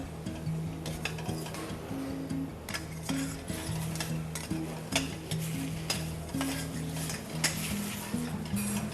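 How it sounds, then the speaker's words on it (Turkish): Beef fillet browning with tomato paste in a pan for goulash soup, a steady close sizzle and fry with repeated scraping and clinks of a utensil stirring against the pan throughout. "Kavurduğumuz bonfilimize biraz salça salça ile birlikte kavuruyoruz"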